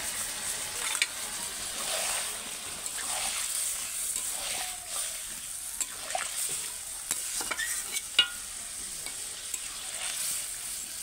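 Jackfruit curry frying in a pan after water is added: a steady soft sizzle, with intermittent scraping strokes of a spoon stirring, close and fairly quiet throughout.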